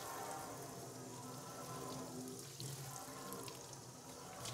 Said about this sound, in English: And now rinse it off.